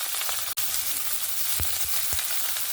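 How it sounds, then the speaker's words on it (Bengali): Chopped onion frying in hot oil with cumin, bay leaf and whole spices for a Bengali crab curry, a steady close sizzle with a few soft stirring knocks and one sharp click. "প্রথমে পেঁয়াজটাকে সুন্দর একদম লাল লাল করে ভেজে নিই।"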